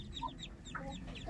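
Ducklings give faint, rapid high cheeping calls in quick overlapping bursts over a low background rumble.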